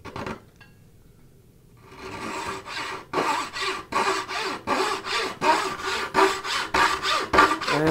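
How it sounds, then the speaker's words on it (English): A handmade turning saw rips through wood in a steady run of back-and-forth rasping strokes, close and loud, following a short quiet start; the blade bounces slightly with each pass. "Getting a little too much bounce in the saw blade."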